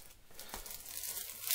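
Plastic shrink wrap is torn off a Resident Evil 5 game case, a short faint crinkling rip close by with a brief sharper tear near the middle.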